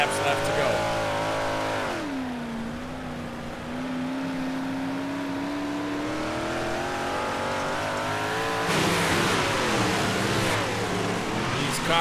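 Race cars roar around Lanier National Speedway in iRacing, their engine notes climbing and falling as they power through the corners, loud and steady with a brief surge of revving near the end, under a commentator's voice.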